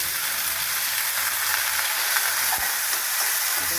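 Capsicum, carrot, beans and peas sizzle continuously in a hot pan, a steady close hiss with a faint clink partway through.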